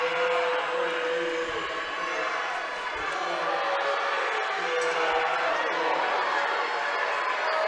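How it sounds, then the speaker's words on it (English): A girls' high school basketball tournament crowd in Kentucky roars steadily with loud, sustained displeasure at the officials after a blocking foul call, a dense continuous din of voices filling the gym throughout. "And this crowd letting the officials hear their displeasure."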